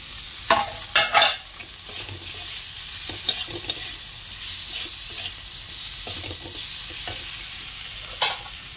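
Potatoes are added to spices frying in a pan and stirred, with a steady close sizzle broken by several sharp scraping stirs and clatters, no voices.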